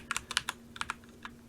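Fingers type on an RK98 100-key mechanical keyboard, producing a quick irregular run of close, crisp keystroke clicks with brief pauses, alone over a faint hum.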